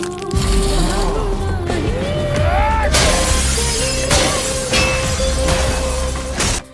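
Car windows smashed in an Indian action film scene, with repeated loud crashes and shattering glass over a dense, busy soundtrack running throughout.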